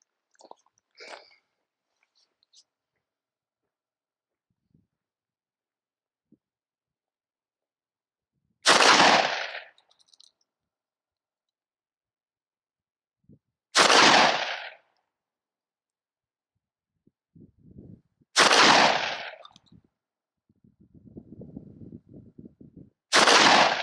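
A Derya Lion LP101 semi-automatic shotgun fires five loud, sharp shots spaced a few seconds apart, each blast ringing out briefly. Faint handling clicks and rustling come between the reports.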